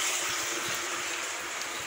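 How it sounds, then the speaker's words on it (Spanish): Water runs steadily through PVC pipes feeding a cilantro hydroponic growing table in a plant nursery, a continuous close rushing flow with no voices. "Utilizando tubos PVC y agua que fluye."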